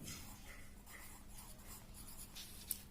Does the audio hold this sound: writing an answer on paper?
yes